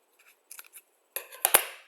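Scissors cutting paper for a symmetry demonstration: a few faint snips, then two louder, close, crisp cuts near the end, with silence between them.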